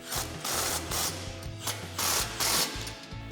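A ratchet with a 15mm socket tightens nuts on a Ford F-150 front upper control arm install, giving close, repeated bursts of rapid clicking.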